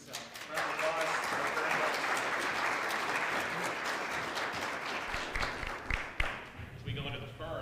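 An audience applauds after a conference presentation, a dense, sustained burst of clapping that starts abruptly, holds steady, then thins out near the end as a voice begins speaking.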